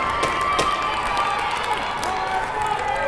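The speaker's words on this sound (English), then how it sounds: "And this crowd goes nuts here" A youth bantam hockey crowd at an Edina vs Hibbing/Chisholm tournament game roars and cheers after a tying goal, with sustained loud cheering and applause filling the arena alongside a commentator's voice.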